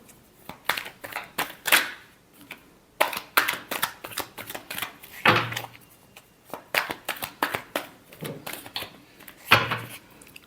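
Tarot cards shuffled by hand in quick riffling bursts, a run of crisp flutters followed by a pause and a second long sequence, close and clear with no talking.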